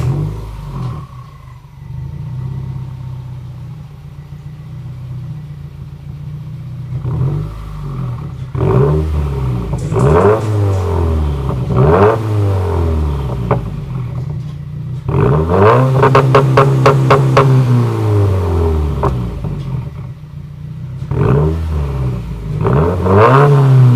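A Subaru WRX fitted with an EOS axleback exhaust revs repeatedly, each blip rising and falling, building to a long, loud high-rpm rev near the end over a steady idle burble, close up with no voices.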